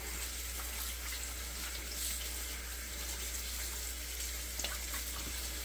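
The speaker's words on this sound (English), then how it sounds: "We'll give this a little better rinse now that we've got it apart." A cooked turkey carcass, pulled apart for stock, is rinsed under a running kitchen tap, a steady close hiss of water splashing into the sink with no talk over it.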